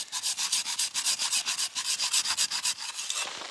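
A snow saw rasps steadily through hard snow in quick, even back-and-forth strokes, gritty and close, slowing slightly near the end.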